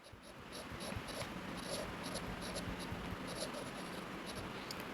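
Marker or chalk writing on a board, with quick rhythmic strokes and taps in bursts, close and fairly quiet over a soft background hiss.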